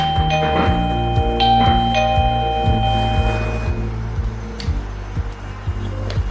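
A Topvico 322 WiFi smart hub plays its alarm chime, a repeating electronic doorbell-like melody of bright tones over a steady pulsing beat, clear and alone.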